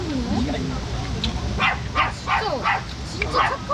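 A dog barks in a run of short, sharp yips outdoors along a valley route, the barks fairly close and repeated in a quick rhythm while people talk over them.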